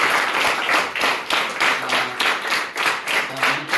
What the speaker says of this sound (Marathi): सर्व विद्यार्थ्यांनी जरा प्रथमेशसाठी टाळ्या वाजवा